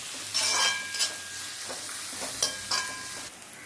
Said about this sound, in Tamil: எல்லாத்தையும் போட்டு ஃபஸ்ட்டு நம்ம வதக்கிடலாம் நல்லா பொன்னிறம் ஆகிற வரைக்கும் வதக்கணும்